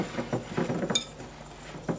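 A spoon clinks and scrapes against a bowl as salt and other fish marinade ingredients are stirred together, with quick irregular taps and one sharp ring, close by.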